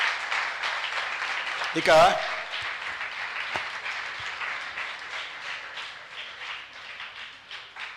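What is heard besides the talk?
audience applause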